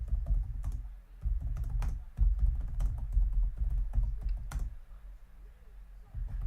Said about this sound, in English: Sorry, just typing up.